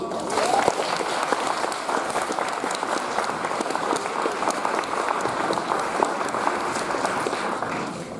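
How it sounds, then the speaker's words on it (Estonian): Steady, full applause from a school Christmas party audience for the actors, sustained clapping from a crowd filling the room without pause. "Teeme suure aplausi meie suurepärastele näitlejatele."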